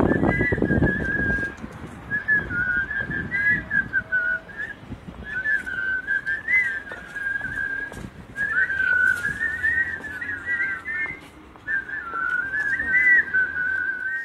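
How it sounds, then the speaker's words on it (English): Several people whistle a shrill, wavering tune in repeated phrases while marching, with a few pauses, over faint shuffling and crowd noise; loud and close. "that's a lot of whistling"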